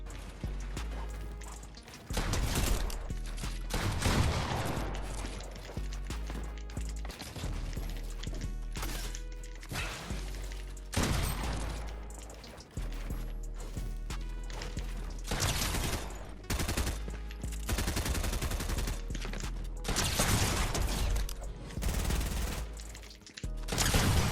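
Rapid SMG bursts and heavy shotgun blasts from a video game firefight, coming in dense, loud volleys with brief pauses between engagements and no voices.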